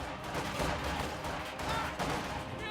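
Gunfire as grenadiers are engaged in a video game battle, a dense continuous crackle of overlapping rifle shots and volleys, loud and unbroken throughout.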